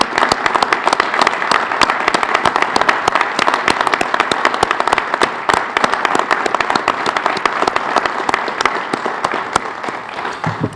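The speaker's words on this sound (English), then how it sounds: "how about one last round of applause for our honorees?" Dense, steady round of clapping from the audience at a police promotion ceremony for the honorees, continuous and fairly loud for about ten seconds before easing off slightly at the end.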